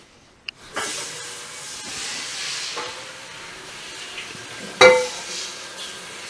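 A hot cooking pan hisses steadily as it is rinsed out after making quesadillas on a home stove, a broad rushing sizzle running throughout with a sharp clank of metal near the end.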